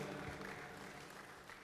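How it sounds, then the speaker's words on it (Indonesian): A crowd applauds an introduced senior figure at a Democrat Party event presenting its expert council members. Steady, dense clapping fills the whole stretch at moderate distance, with no clear talk on top. "tepuk tangan buat Pak Mangindaan"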